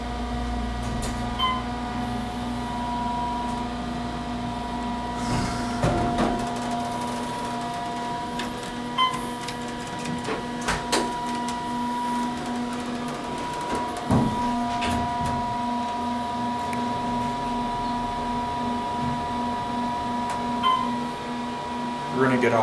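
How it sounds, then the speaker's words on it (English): Otis elevator running in a Holiday Inn Express hotel in Tucson, Arizona: a steady mechanical hum with tonal whine throughout, with clunks and thuds near the middle, and people speaking nearby. "The elevator is gonna be going back up."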